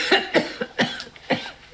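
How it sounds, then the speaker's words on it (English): A person coughs several times in a rough, irregular series of short harsh bursts, close and fairly loud, with no talk. "How long have you had that cough?"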